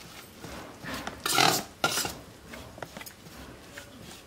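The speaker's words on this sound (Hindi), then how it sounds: "मैं इसे चम्मच से मिक्स कर लेती हूँ" A spoon stirs hot ghee into coconut gujiya dough in a bowl, making soft, uneven rubbing and scraping strokes with a couple of louder grinding passes, close and faint, without talk.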